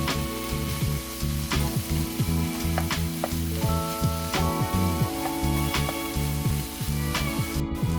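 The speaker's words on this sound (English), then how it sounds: "add shiitake mushrooms, carrots, and onions. Stir-fry well for 3 minutes more." Rice cakes stir-fried with shiitake mushrooms, carrots and onions for royal-style non-spicy tteokbokki, giving a steady loud sizzle with scraping stirs and clatter running throughout, no talking.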